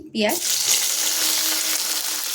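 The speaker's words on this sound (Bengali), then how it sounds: "আবার এই তেলেই বাকিগুলো ভেজে নিচ্ছি।" Chicken pakoras frying in hot oil, a dense, even sizzle that swells in after a short bubbling burst at the start and holds steady to the end.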